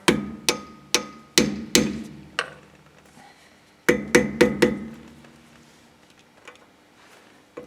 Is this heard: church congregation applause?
no